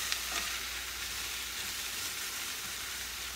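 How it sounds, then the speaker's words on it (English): Bell peppers frying in a pan, a steady even sizzle that runs continuously at moderate level with a few faint stirring clinks and no talk. "now I'm just going to add the bell peppers and let that go"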